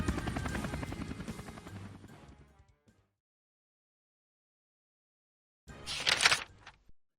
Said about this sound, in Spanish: El helicóptero los buscó, pero después de unos minutos se detuvo y siguió hacia el puente.